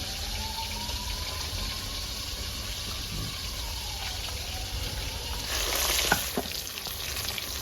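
Bhola fish frying in oil in a home kitchen, a steady close sizzle throughout with a louder burst of spitting and crackling near the end, no talking.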